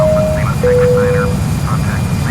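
Airbus A319 engines run at idle throttle in the FSX flight simulator, a steady low drone with a faint electronic tone, under a person talking.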